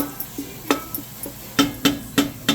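Garlic and onion sautéing in a pan with coconut aminos nearby, heard as a soft background sizzle broken by a series of sharp, close utensil clinks and scrapes against the pan, coming faster toward the end.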